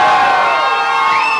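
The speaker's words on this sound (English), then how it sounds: "you got to scream hella loud" A live concert crowd at a show in Blackwater screams and cheers loudly in a dense, continuous roar of many high voices, close and sustained throughout.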